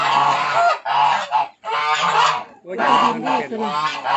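Ducks on a farm quack and honk in loud, close bursts, several calls in quick succession with brief gaps between them.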